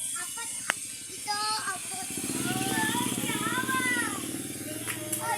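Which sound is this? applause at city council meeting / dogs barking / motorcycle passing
motorcycle passing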